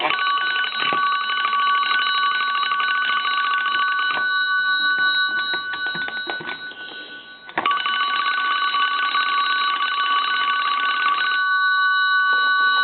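A restored Kellogg wooden wall crank telephone with a Stromberg crank rings loudly and continuously in harsh electric bursts, with one brief pause midway, close and alone.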